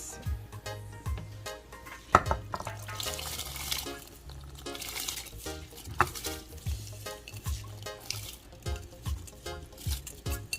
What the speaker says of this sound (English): Now I've got the rice washed, ready to go in to be cooked